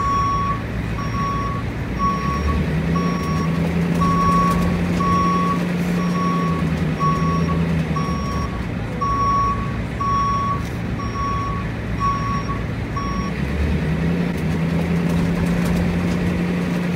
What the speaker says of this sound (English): making friends with the backup alarm